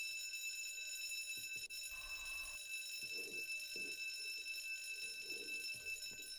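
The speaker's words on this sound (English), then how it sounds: "once you're in here, the alarm will go off, because obviously" A bank alarm in the Roblox game ER:LC sounds as a continuous high electronic ringing tone held throughout, with faint game sounds and muffled thumps underneath.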